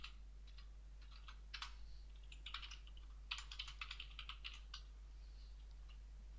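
Keys clatter on a computer keyboard as a command is entered, a quiet run of brisk clicks in short bursts against a faint hum.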